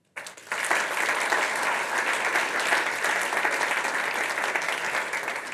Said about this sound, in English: and applause for them